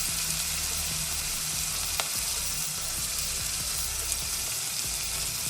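Tomato pieces fry with garlic paste in a pan for a fish curry, giving a steady, even sizzling hiss at moderate level with a few faint clicks and no voices.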